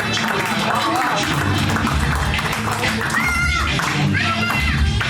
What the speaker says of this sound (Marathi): Everybody please एकदा जोरदार टाळ्या.